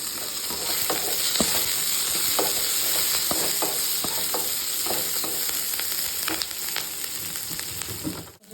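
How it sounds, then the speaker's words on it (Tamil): Green chillies and curry leaves frying in a hot pan, a steady dense sizzle with scattered crackles and pops throughout, no voices over it. "இப்போ பச்சை மிளகாயும் கருவேப்பிலையும் சேர்த்திக்கலாம்"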